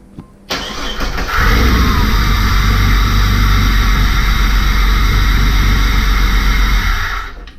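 A car engine cranks and catches after a cylinder head was installed, then runs on at a loud, steady idle close by for several seconds before cutting off.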